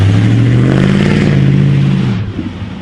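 A project car's engine revs hard and loud, holding high for about two seconds before dropping off with a few crackling pops on the decay, no voices over it.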